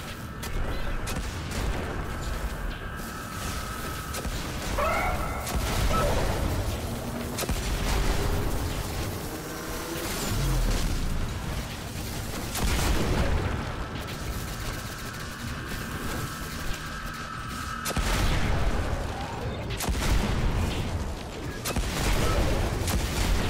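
Scorch Cannon heavy weapon firing in Destiny gameplay on Xbox One, with repeated loud booming blasts and explosions spread across the stretch, no talk over them.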